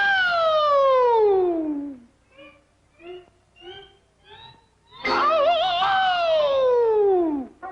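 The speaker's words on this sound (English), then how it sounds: "We are now privileged to witnessing demonstration of Japan's finest air raid siren." A Japanese air raid siren wails loud and alone, its tone sliding steadily downward in one long sweep, then a few short, softer tonal bursts, then a second loud descending wail.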